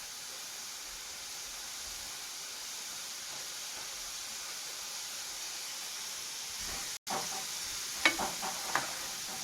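French fries frying in hot oil after several minutes in the pan, giving a steady soft sizzle and hiss throughout, with a few small pops and stirring clinks near the end.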